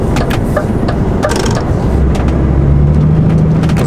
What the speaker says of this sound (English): Maybe after this orange car.